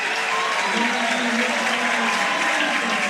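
Crowd at a college softball game between UCLA and Oregon cheering and applauding in a steady, loud wash of noise that holds for the whole stretch, with a voice talking over it.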